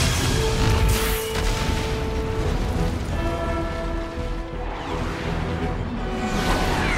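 Main battery cannon of the Infinity ship firing in Halo 4, a deep rumbling boom with whooshing, rushing noise over a sustained tonal hum, loud and continuous.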